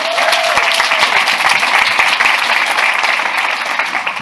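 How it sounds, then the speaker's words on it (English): Loud, dense applause from an audience at a storytelling event, steady throughout and easing slightly toward the end. "Round of applause."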